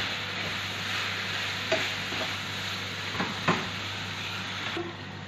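Sliced leek frying in a pan for pasta, giving a steady close sizzle with a few light knocks from a stirring utensil against the pan and no talking.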